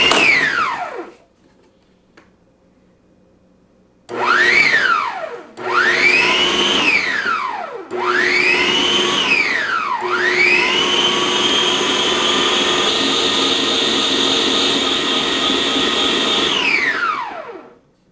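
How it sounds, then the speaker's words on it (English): A stand mixer whirs through a meatball mixture of grass-fed meat in a stainless steel bowl, motor pitch swooping up and down in repeated surges after a short pause, then running steadily before stopping; loud and close, without speech. "now let the stand mixer do its job"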